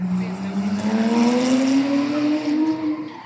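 Porsches race at a Cadwell Park track day, with a loud engine note rising steadily in pitch as the cars accelerate and pass at close range. A voice is heard faintly.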